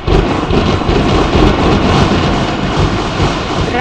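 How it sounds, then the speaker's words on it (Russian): Storm effect in the Fixiki children's video game, a loud, dense rumbling roar of thunder and rain that holds steady throughout with no speech. "В Фикси-городе шторм!"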